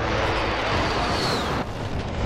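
An airstrike in Call of Duty: Modern Warfare on the Hackney Yard map erupts as a heavy, sustained roaring blast, loud and close, rumbling for a couple of seconds before a slight drop.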